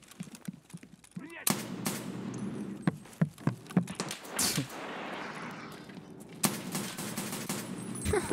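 Bursts of RFB rifle fire in Escape from Tarkov come in irregular clusters of sharp shots, some in rapid succession, with a reverberant tail over a quiet background and faint voice underneath.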